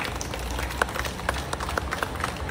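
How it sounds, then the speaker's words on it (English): A round of applause from the audience at the inauguration of a teen centre at Iloilo National High School. The sparse, distinct claps sound fairly close and are brief. "let us give it again a round of applause"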